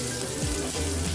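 Garlic sautéing in a small pot with a wooden ladle, a steady close sizzle and frying hiss making the base of a kare-kare sauce, with no talking.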